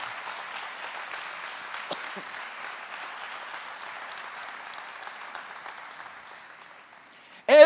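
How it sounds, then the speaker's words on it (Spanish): A church congregation applauding during a service, a dense steady wash of clapping that slowly fades out before a voice cuts in at the very end. "Dale un fuerte aplauso al Señor"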